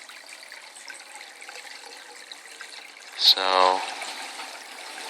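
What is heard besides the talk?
water flowing through DIY PVC overflow tube into sump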